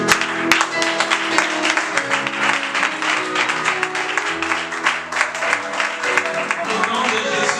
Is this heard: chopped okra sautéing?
no